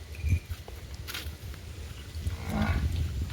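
A hungry buffalo on a village farm lets out a low, drawn-out lowing call near the end, over rustling, shuffling ground noise and a brief earlier grunt.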